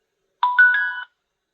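An XTU J9 Plus video doorbell camera plays a short power-on chime of three quick rising electronic tones, clear and isolated in silence.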